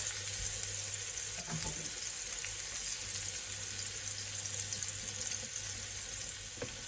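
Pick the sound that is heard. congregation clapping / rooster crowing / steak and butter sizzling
steak and butter sizzling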